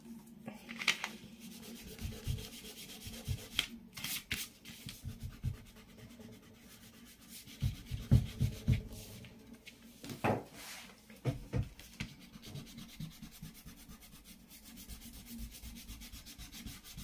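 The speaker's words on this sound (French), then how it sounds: "Je vais gommer." An eraser rubs back and forth across paper on a scrapbooking worktable, in repeated close, scratchy bursts separated by brief pauses, with no talking.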